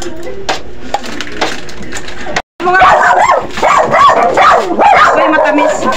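Dogs barking and yipping close by in a lively Filipino household, mixed with overlapping conversation and a short pause midway.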